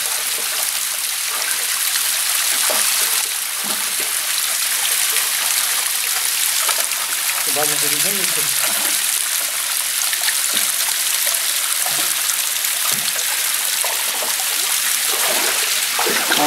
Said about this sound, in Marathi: या एका झऱ्यातून साधारण 100 मोटर चलन इतकं कंटिन्यू पाणी हे सध्या आता वाहत आहे.